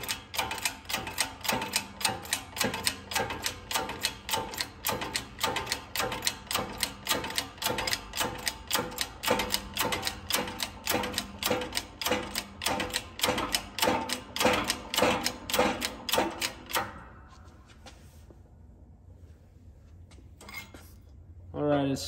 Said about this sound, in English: now I'm going to press this bearing on with a socket, a flat plate